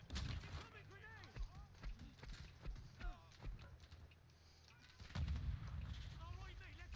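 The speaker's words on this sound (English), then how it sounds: "Incoming grenade!" Loud booms and bursts of gunfire in an online shooter during a charity stream, with a heavy explosion near the end rumbling strongly; players talk over the din throughout.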